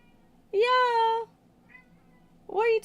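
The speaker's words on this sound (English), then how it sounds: "Bruce is like screaming in the other room. He's like, meow." A pet cat named Bruce meows loudly from another room, two drawn-out, wailing cries separated by a pause, clear against a quiet indoor background.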